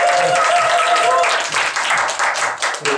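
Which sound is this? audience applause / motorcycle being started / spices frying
audience applause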